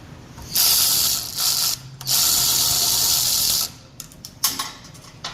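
An Alloyman 16.8V cordless power ratchet runs backwards in two close, loud whirring bursts with a rapid mechanical buzz, followed by quieter clicks and handling taps.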